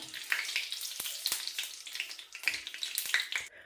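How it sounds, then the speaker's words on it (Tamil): Curry leaves fry in hot oil with a bright, continuous sizzle, sharp pops and crackles scattered through it, close and alone. "இந்த கருவேப்பமிலையும் போட்டு நல்லா கருவேப்பமிலை இந்த எண்ணெயில் நல்லா பொரிஞ்சு வர வேணும்"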